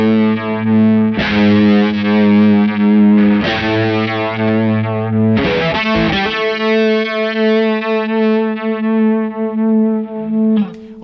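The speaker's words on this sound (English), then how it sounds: "Almost kind of like a vibe effect there. It's kind of an asymmetrical pulse." A guitar riff in A played through a DOD FX65 chorus pedal, loud and sustained, with repeated strummed chords and an uneven, vibe-like pulsing shimmer, no voices.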